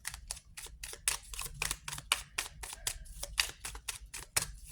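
Tarot cards are shuffled quietly and close by, giving a quick, even run of crisp flicking bursts, roughly four per second, with no voices.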